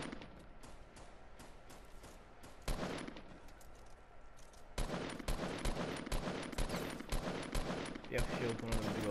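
Rapid gunshots in a Fortnite ranked match, sparse cracks at first that swell into dense, fast bursts, with players talking quietly underneath.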